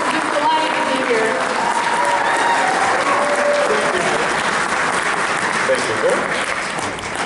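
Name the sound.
round of applause for Viscount Bob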